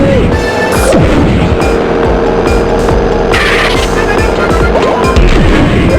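Booming cannonball shots and crashes from Captain Redbird's weapon in the LEGO Racers video game, loud and repeated over a constant engine drone and jingly game sounds.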